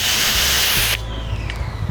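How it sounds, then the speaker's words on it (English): Pump sprayer misting decon shampoo, mixed 9-to-1, onto a 1993 Nissan 240SX: a steady, loud broadband hiss for about a second that cuts off sharply, leaving a faint tonal ring and low background rumble. "Then I'll come in with the sprayer, which has decon shampoo in it 9-to-1."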